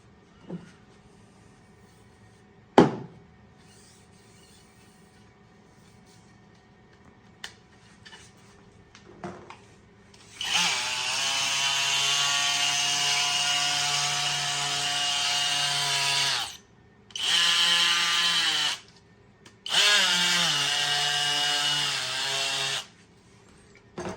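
A power sander whirs loudly in three sustained bursts with short pauses between them, after a few quiet clicks and knocks, while building a 1:6 scale model tank.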